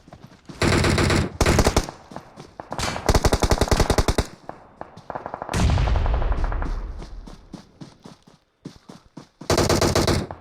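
Gunfire rattles through a battle royale game tournament fight: loud bursts of automatic fire alternate with single shots and a booming blast that decays, separated by brief pauses.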